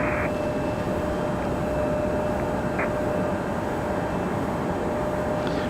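A Delta airliner at Raleigh-Durham International Airport gives off a loud, continuous broadband jet roar, with a steady tonal whine running underneath throughout.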